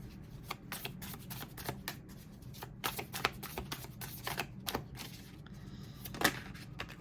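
Tarot cards shuffled in quick, crisp riffles and flicks, a steady run of papery slaps with a few sharper snaps, close and fairly quiet against a low background hum.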